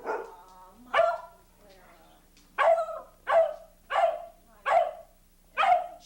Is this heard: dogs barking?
yes